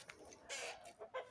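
Young chickens and hens cluck and chirp in a coop in several distinct short bursts, faint and close, with no voices.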